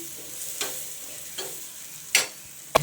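A tomato thecha is sautéed and stirred in a pan, with a soft steady sizzle broken by a few scraping stirs and two sharper clicks near the end.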